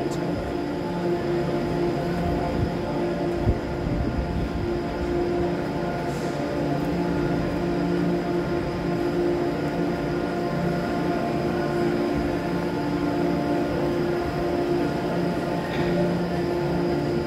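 Steady low rumble and rattle of a crowded passenger train carriage in motion near Coventry, a continuous droning hum with faint clatter throughout, no talk.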